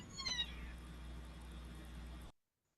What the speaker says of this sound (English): she's got some cat fights behind her